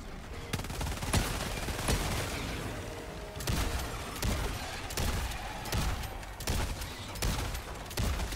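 Gunfire and a grenade explosion in the video game Helldivers 2 against bugs: repeated sharp bursts of shots and heavy booms come in irregular clusters, loud and close, with a few brief pauses.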